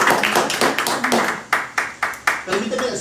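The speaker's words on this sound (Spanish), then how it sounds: "Dale fuerte palmas al Señor," Church congregation clapping hands, a loose run of fairly close claps that turns into a few distinct, rhythmic strong claps midway, with voices mixed in underneath.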